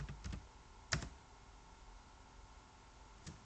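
Typing on a computer keyboard with a few sharper Enter-key presses, close and quiet, with soft rapid clicks at the start and isolated louder strokes around one second and near the end, no voices.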